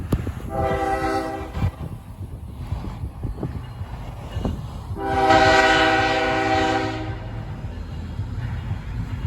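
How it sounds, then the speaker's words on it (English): Norfolk Southern freight train near Lake Avenue in Blasdell, New York, sounding two loud horn blasts, a short one and then a longer sustained one, over a constant low rumble of the passing train. "we got a train for NS"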